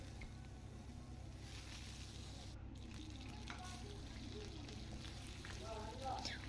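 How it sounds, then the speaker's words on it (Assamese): Pointed gourd (potol) frying in a pan for a vegetarian meal, giving a steady, close sizzle throughout with faint stirring sounds; a voice speaks lightly over it. "এতিয়া মই পটল কেপিস মই ভাজি লম"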